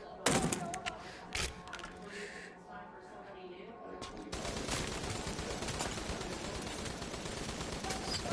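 A few sharp pistol shots ring out in the VR shooter Bravo Team, two separate bangs early on, followed by a dense rumbling background of game noise while a person talks.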